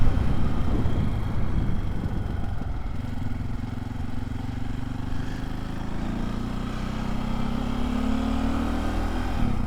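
A KTM 525 EXC dirt bike engine drones continuously while riding around cane paddocks, a loud rough buzzing with rising and falling revs under constant wind rush and clatter, no voices.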